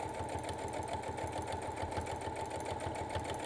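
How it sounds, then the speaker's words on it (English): A sewing machine with a lengthened stitch runs steadily through a quilted table runner, its needle thumping in a fast, even rhythm over a constant motor whine, close by with no talking. "just going to lengthen my stitch because I just want to keep it in place really, so nothing moves on me when I stitch it all together"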